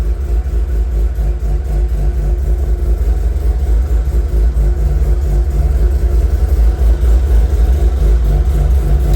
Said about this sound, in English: it's a brapping like an RX-8 shouldn't brap, it's gonna throw that misfire